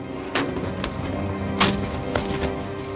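Cannon artillery fire at a fort under attack, several sharp booms at irregular intervals, one louder near blast standing out over a continuous rumbling battle background.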